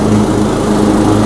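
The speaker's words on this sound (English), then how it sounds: "See, mower on. Cutting." Cub Cadet riding lawn mower cutting grass outdoors, its engine droning loud, close and steady with a constant buzzing hum and no pauses.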